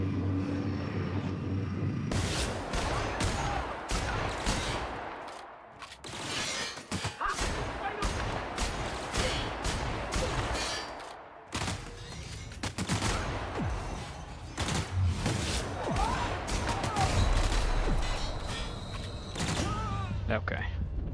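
Gunfire in The Outer Worlds, bursts of rapid shots and thuds with short pauses between volleys, loud and close, with someone talking now and then.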